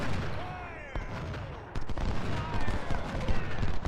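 Scattered musket volleys and cannon booms crackle through a Civil War battle in the Ultimate General strategy game, sharp bursts rising in intensity over a continuous rumble of distant fire.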